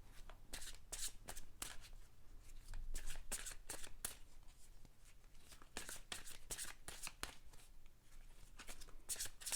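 Tarot cards are shuffled in quick, crisp riffling bursts, repeated steadily up close and fairly quiet, without any talking.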